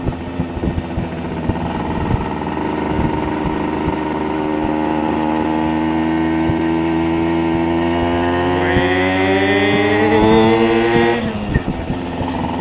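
A Suzuki RV motorcycle engine runs loud and continuous while being ridden, its pitch climbing steadily through the revs and rising sharply near the end before dropping off, with no talking.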